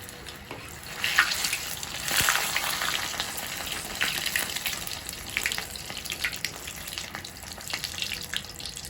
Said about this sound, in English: The egg is cooking.